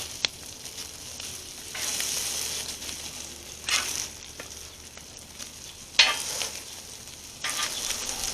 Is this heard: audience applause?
no